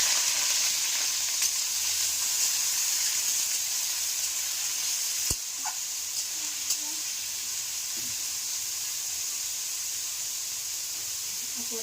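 Carrots and beans fry in ghee with a steady, gentle sizzle and hiss throughout, broken by one sharp click of a utensil midway and a few soft stirring touches.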